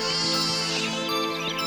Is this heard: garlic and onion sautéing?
no